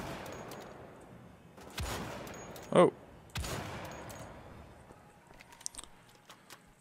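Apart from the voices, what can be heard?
gunfire in video game Wolfenstein: The Old Blood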